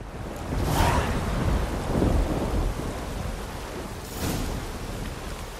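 A thunderstorm in the video game The Witcher 3: Wild Hunt, with steady heavy rain hissing throughout and low rolling thunder swelling with a couple of sharper cracks.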